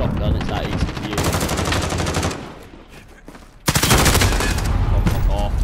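Automatic weapon fire in Call of Duty: Modern Warfare, a Headquarters match: loud, rapid bursts of shots, a sustained volley that thins out briefly and then resumes at full force.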